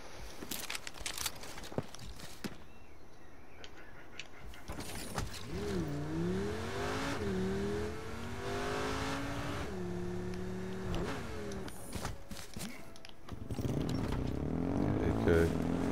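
A car engine in the video game H1Z1: Battle Royale hums and revs, rising and falling in pitch, with clattering mechanical noises and thuds around it.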